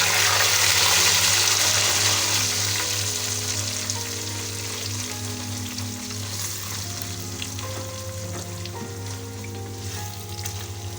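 Mustard greens saag frying in a pot, village style, a loud continuous sizzle and bubbling with occasional stirring scrapes, steady and close, fading slightly after the first few seconds, no talking.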